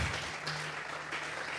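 A church congregation claps together in a sustained burst of applause offered as worship, dense and steady throughout without speech.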